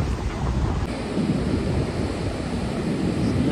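High-tide sea waves roll onto Vengurla Beach in Konkan on a rainy day, a continuous loud roar of surf with wind buffeting the microphone.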